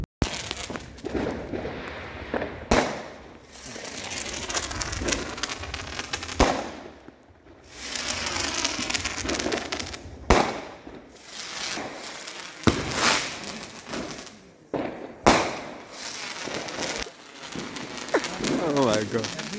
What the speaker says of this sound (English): You can see a lot of fireworks going on.